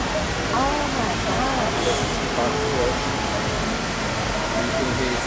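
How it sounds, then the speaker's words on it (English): Tegenungan Waterfall in Bali, a constant broad rushing roar of falling water filling the background, with people talking over it. "So another view here at the waterfall."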